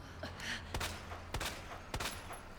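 Three heavy thumping blasts from a grenade launcher in Resident Evil 2, evenly spaced about half a second apart, each a sharp broadband boom over a steady low game hum.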